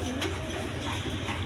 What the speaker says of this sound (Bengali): দেখেন এক পেয়ার ডেনিস কবুতর